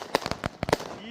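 A quick cluster of sharp firework pops and bangs at a desert-shore fireworks show in Bombay Beach, about five or six close cracks in rapid irregular succession.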